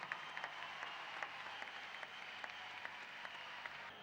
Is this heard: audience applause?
yes